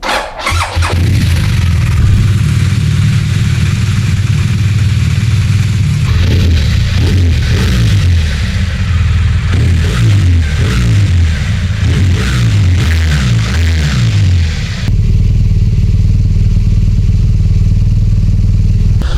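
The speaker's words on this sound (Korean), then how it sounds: "엔진 사운드 접소리가 없습니다. 아주 훌륭하고 청량한 아이들링 보여주고 있고요" A BMW R1200RT motorcycle with an Akrapovic exhaust starts up and idles close by, a loud, steady low boxer-twin rumble with some rhythmic revving and clatter midway, continuing unbroken to the end without talk.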